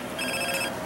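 A phone rings in Grand Theft Auto San Andreas, a steady electronic trill held loud and alone for about a second.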